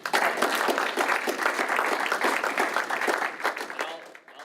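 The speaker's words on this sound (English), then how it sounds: "let's have a real loud round of applause for Sean." An audience at a Bitcoin meetup applauds after a speech, steady crowd clapping that holds strong before tapering off at the end.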